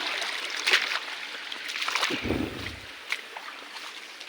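Water rushes and splashes steadily over rocks, a continuous broadband flow with occasional louder surges.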